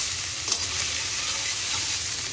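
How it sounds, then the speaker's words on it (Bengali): Tangra fish frying in a pan of oil, a dense, even crackling sizzle held close and steady throughout, with no voices. "মাছ ভাজা"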